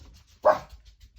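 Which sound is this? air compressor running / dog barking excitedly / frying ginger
dog barking excitedly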